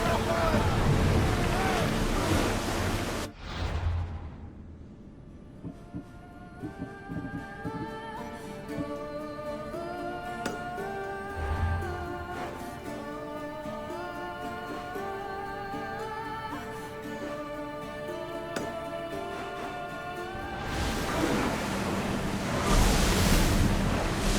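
A ship sailing on the open sea in Assassin's Creed Odyssey, with loud rushing waves and wind at the start and end. In between, the water sound fades under a musical score with voices.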